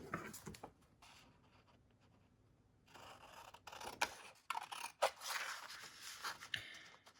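Scissors snip through paper printables close by, giving a quiet run of crisp cuts and rustles that grows denser toward the end, with no talking.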